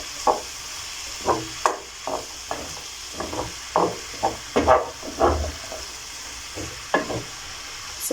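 A spoon stirs minced beef stew with tomatoes in a pot, giving irregular scrapes and clacks over a soft, steady sizzle.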